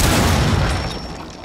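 In Rainbow Six Siege, a C4 charge detonates with a loud, close, deep boom that fills the moment and then fades as a rumbling tail.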